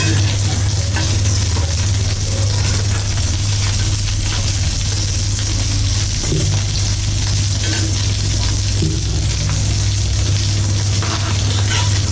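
Tuna fish kababs frying in a pan give a loud, constant sizzle under a low steady hum, with occasional soft scrapes and no talking.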